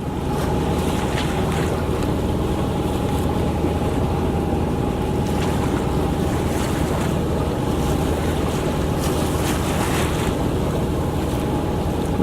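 A Dana 24 sailboat motor sailing on the open sea near Catalina Island: a steady engine hum runs under continuous wind buffeting and wash of waves against the hull, loud and unbroken.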